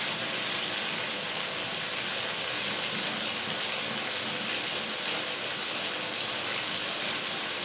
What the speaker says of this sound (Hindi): इसमें से अच्छी तरह पानी निकलने दें।